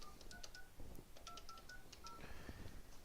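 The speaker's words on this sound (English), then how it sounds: "it brings up another dial tone, and we can go ahead and call an external party" A Polycom VVX 411 desk phone keypad beeps through a quick series of short dialing tones, evenly spaced, over a faint background hiss.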